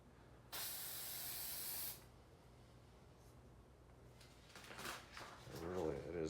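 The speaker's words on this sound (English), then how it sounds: "Apply spray and quick short mist over the surface, and you can do extra coats." A single sustained aerosol spray from a can held about 10 to 12 inches from a surface hisses loudly for about a second and a half, then stops, leaving quiet room noise and some faint shuffling.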